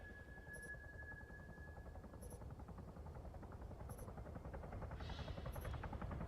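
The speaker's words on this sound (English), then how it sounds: "Oh, no. There's a helo." A helicopter in the Arma 3 video game hums overhead as a low, steady rotor drone beneath faint periodic beeps, fairly quiet and constant.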